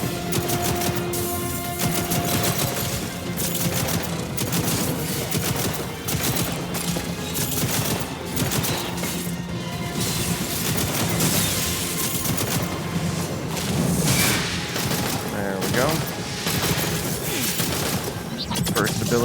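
A weapon's ultimate ability fires in the video game Wayfinder as a dense, continuous barrage of rapid gunfire and impact effects with game music, while a voice talks over the action throughout.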